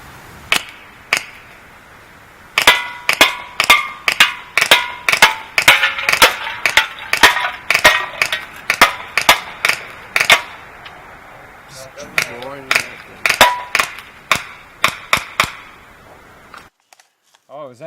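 Umarex Steel Force airgun fired in single bursts at 25 feet outdoors, a long string of sharp, loud close cracks, some in quick pairs, with brief pauses and a quieter tail near the end.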